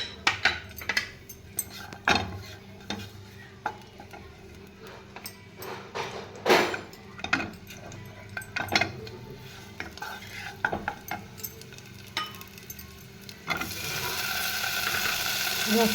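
Garlic and paneer fry in a pan with a little oil while a utensil stirs, giving steady scraping and clicking taps close by, and a brighter sizzling hiss swells at the end.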